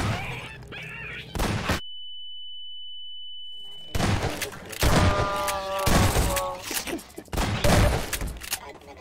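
An explosive barrel blows up in Half-Life 2 amid heavy game combat, with a thin steady tone beforehand and several loud broadband bursts rumbling close by.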